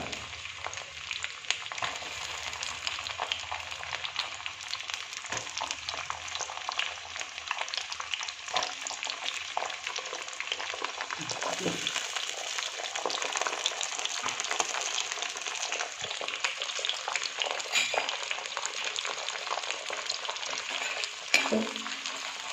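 Garlic and ginger frying in a pan for bilimbi pickle produce a continuous close sizzle with steady crackling and intermittent stirring scrapes, no voices.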